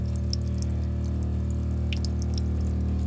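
Water runs steadily from an RV camper faucet into a sink while the water lines are being winterized, a constant pouring hiss over a low humming drone, with a few scattered drips and no voices.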